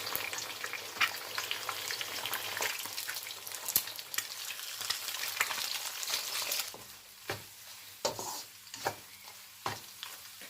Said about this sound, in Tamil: ஆயில் சூடாயிட்டு இப்போ 4 முட்டை எடுத்து உடைச்சி வச்சுருக்கிறேன். அதை சேர்த்துருவோம்.